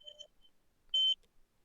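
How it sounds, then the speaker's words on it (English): A loud electronic fire alarm beeps during a casual card game at home, one faint tone early on, then a single strong, piercing beep near the middle, standing alone with no talk over it. "fire alarm is going off?"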